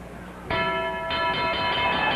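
A boxing bell rings loudly to end the tenth round of a welterweight title fight, struck twice in quick succession with a lingering metallic tone over the crowd noise of the arena.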